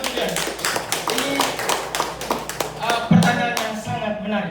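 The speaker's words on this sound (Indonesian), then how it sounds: "Bapak Ibu Guru, tepuk tangan dulu untuk dia." Teachers clap for a participant in a school training session, a burst of scattered hand claps mixed with overlapping voices and chatter in a room.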